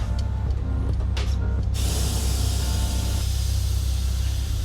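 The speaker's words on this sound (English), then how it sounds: "Tire machine keeps acting up." Air hisses loudly and steadily from a tire machine while a rear motorcycle wheel with a new Metzeler tire is mounted on a custom bagger, a broad spray-like rush over a low machine hum, up close.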